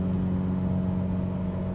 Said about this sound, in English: That car is so loud.